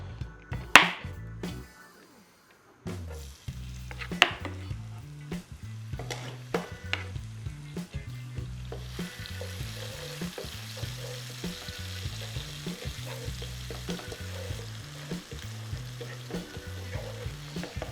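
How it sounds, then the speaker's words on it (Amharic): Onions sauté in hot oil in a pan, a steady close sizzle that thickens partway through, with repeating background music underneath. "ሽንኩርት ከማቁላታችን በፊት በመጀመሪያ ዘይቱን እናገላለን"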